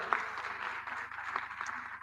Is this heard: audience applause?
yes